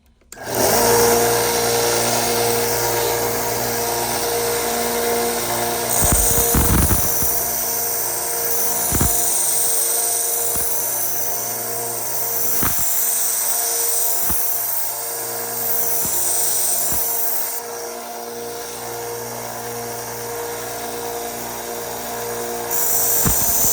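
A knife blade worked on a powered sharpener, the machine's steady high whine running throughout, broken by several sharp contact scrapes and clicks as the edge touches the abrasive.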